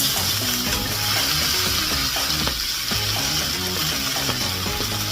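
An egg and cheese sandwich fries in a pan with a steady, close sizzle and crackle, and soft stirring or shifting sounds run under it throughout. No one speaks.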